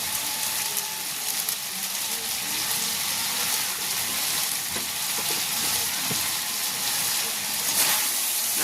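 A veg chicken pakora mixture sizzles steadily in a hot pan and is stirred until dry, with a constant frying hiss and occasional scraping strokes, no talking.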